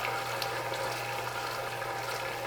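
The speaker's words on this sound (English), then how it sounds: "So you see all the water in here bubbling away" Water bubbling steadily in a pot with garlic cooking in it, a continuous close hiss of small bubbles with no talking.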